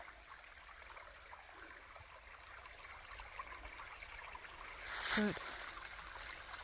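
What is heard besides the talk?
creek water trickling in forest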